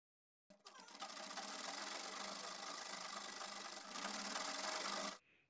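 A sewing machine runs a steady stitch along the folded drawstring casing of palazzo pants, a close, even mechanical whir lasting a few seconds before stopping abruptly.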